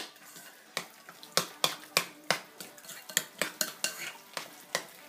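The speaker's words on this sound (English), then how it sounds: "you could just use a spoon, and mash it up like that with a spoon" A metal spoon mashing and stirring avocado in a bowl for guacamole, with close, repeated clinking scrapes in an irregular rhythm and no talking.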